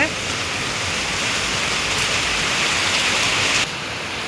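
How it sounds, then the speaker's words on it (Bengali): Steady, dense hiss of rain falling without pause, loud and close, easing slightly near the end. "বৃষ্টি নামছে"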